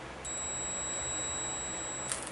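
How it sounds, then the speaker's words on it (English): A digital multimeter in continuity mode gives a steady, thin electronic tone that sounds continuously and quietly through most of the clip, with a couple of small clicks. "I have one that makes a nice tone when you have continuity"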